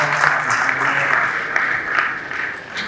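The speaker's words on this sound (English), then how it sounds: "Can we give him a round of applause?" Applause from a summit audience in Ibadan, a continuous, fairly loud wash of clapping that holds steady from start to finish.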